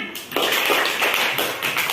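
A class of students clapping hands after a group discussion, a burst of many close claps starting abruptly and continuing steadily, fairly loud with no talk over it.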